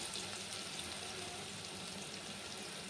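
Curry leaves dropped into hot oil in a pan: a steady, dense crackling sizzle with a soft bubbling hiss, continuous and moderately faint throughout.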